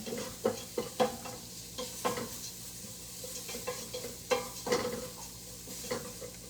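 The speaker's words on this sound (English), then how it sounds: "we're just going to mix this together and kind of toast it or roast it" Ingredients for white chicken chili are stirred and toasted in a pot: soft, irregular scraping and tapping of a spoon over a low, continuous sizzle, fairly quiet and with no talking.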